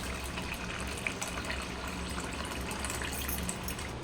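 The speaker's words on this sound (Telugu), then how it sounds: "కప్పున్నర వాటర్ అయితే వేయాలి" A steady, full rush of water pouring into a vessel, continuous and close, with no voices.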